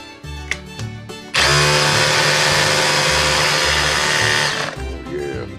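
A loud, rough, chattering Milwaukee M18 cordless hammer drill in hammer mode runs steadily for about three seconds after a short pause, then cuts off.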